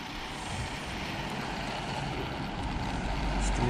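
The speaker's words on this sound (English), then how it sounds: "Just wait till these cars pass." Road traffic rumbles past at a roadside, a continuous broadband roar of passing vehicles that swells slightly louder toward the end, with no clear speech.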